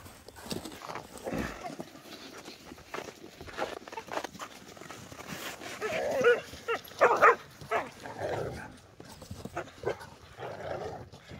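Dogs growl and bark at puppies outdoors on a nice day, with rough snarling bursts and barks that grow louder in the middle, close by, alongside occasional human talk.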